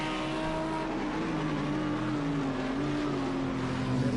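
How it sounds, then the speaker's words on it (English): A Lamborghini GT3 race car engine roars steadily from behind at Watkins Glen, a loud sustained tone that rises slightly toward the end, with no talking. "Listen to that roaring Lamborghini."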